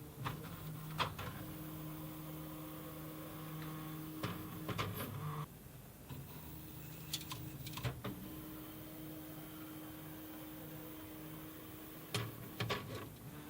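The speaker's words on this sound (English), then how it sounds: "the printer will zero the X, Y, and Z axis and then starts the mesh bed leveling." A Prusa MK3S 3D printer homes its X, Y and Z axes and runs mesh bed leveling, giving steady stepper-motor whines in several tones broken by short pauses and sharp clicks, quiet and close with no talking.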